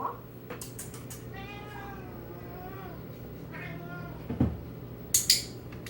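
A cat gives several drawn-out, wavering meows during a clicker training session indoors, close and moderately loud, followed by sharp clicker clicks and some soft handling noises.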